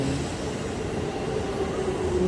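Trains at a Japanese station give off a steady low rumble and rolling rail noise, continuous and fairly loud, with no voices.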